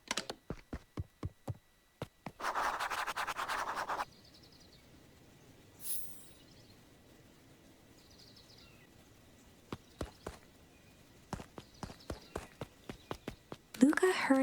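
Several footsteps in the Beacon Pines video game, a series of short, sharp taps in clusters at the start, midway and near the end, with a steady noisy hiss in between.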